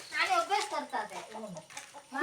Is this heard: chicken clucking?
yes